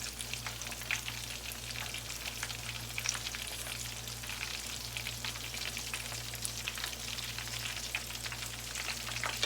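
Eggrolls deep-fry in a pot of oil on a gas stove, making a dense, continuous crackling sizzle with fine popping throughout, steady and close, over a low hum.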